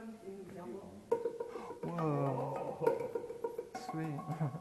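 Hollowed-out rock ribbons inside Moaning Cavern in Murphys, California are struck like drums, giving a few resonant, ringing knocks that sustain under loud, excited talk from people nearby.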